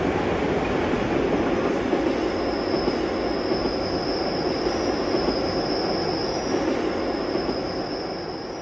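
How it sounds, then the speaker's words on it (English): The Bernina Express rumbles steadily along a Swiss mountain railway toward a spiral tunnel, with a continuous high metallic wheel squeal running over the low roar throughout. "This train is about to enter the last spiral tunnel."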